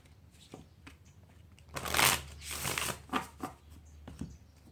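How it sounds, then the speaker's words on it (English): An oracle card deck being shuffled by hand, soft riffling and sliding card sounds in bursts, quiet and close, with no talking. "we'll go ahead and shuffle the oracle"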